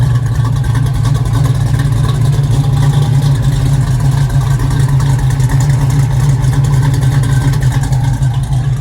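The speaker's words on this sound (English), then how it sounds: "let's listen to the exhaust" A 1969 Chevrolet Nova with a 427 V8 and 4-speed Hurst shifter runs loud and close, its exhaust holding a deep steady rumbling drone without clear rev changes.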